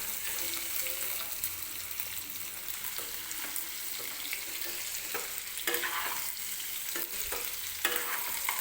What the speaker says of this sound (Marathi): आणि व्यवस्थित मिक्स करून गोल्डन रंग येईपर्यंत हा बटाटा जो आहे तो आपल्याला तेलामध्ये परतून घ्यायचा आहे.